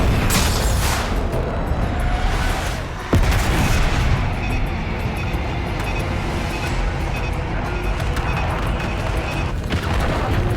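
Bombs from an air strike in Call of Duty: Black Ops 6 land in a string of loud, rumbling booms and blasts that roll on continuously, with a sharp crack about a third of the way through.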